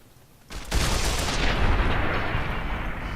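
A powerful modded big gun fires at geckos in Fallout New Vegas, a sharp onset after brief quiet giving way to a sustained, loud roaring blast that stays dense and heavy for several seconds.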